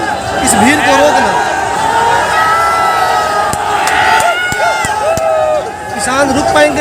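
A large crowd of farmers at a tractor rally shouts, cheers and surges loudly and continuously, with whoops and raised voices close by and a dense roar of many people throughout.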